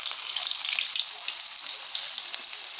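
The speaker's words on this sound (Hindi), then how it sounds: "चले अब हम इन्हें फ्राई करते हैं" Spinach koftas fry in hot oil, a loud, steady, bright sizzle that holds evenly throughout with no voices.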